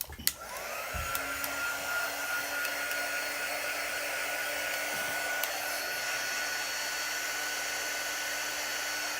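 Hair dryer switched on to dry wet paint on a rustic round floral medallion craft piece, a loud steady close blowing roar that starts with a click and runs unbroken, with no speech.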